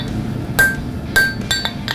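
Knife handle material hammered on an anvil while forging a knife, giving three sharp, ringing metallic strikes about half a second apart, close and loud over a quiet background.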